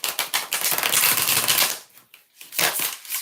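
A deck of cards is riffle-shuffled for a tarot-style reading, a loud, close, rapid fluttering burst followed by a pause and a second shorter ripple.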